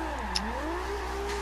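A car engine in the racing game Forza Horizon 2, a steady droning tone that dips and rises in pitch as the car revs, close and sustained, with no talking over it.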